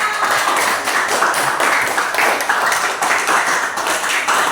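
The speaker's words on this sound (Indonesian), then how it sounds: "kita berikan tepuk tangan" A classroom group claps together in a steady, brisk rhythm of many hands, fairly close and continuous throughout, with no talking over it.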